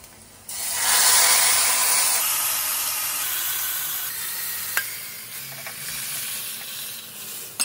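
Dal tipped into a hot pan lets out a loud burst of sizzling and steam hiss that swells quickly, then slowly settles into a steady softer fry, with a faint scrape near the end.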